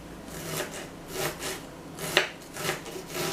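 A knife finely chops an onion on a board in a series of soft, rhythmic slicing cuts, each with a brief scraping rasp and one sharper knock, close up and with no talking.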